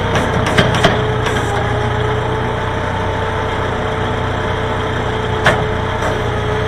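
A Farmall 400 tractor engine runs at its lowest throttle, a steady low, loud idle drone with an even mechanical hum and a couple of brief clanks, no talking.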